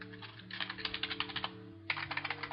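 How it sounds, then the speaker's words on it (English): Rapid bursts of clicky typing on a computer keyboard while playing the Facade game, close and crisp, with a short pause before a second flurry of keystrokes over a faint background hum. "I have a typing problem"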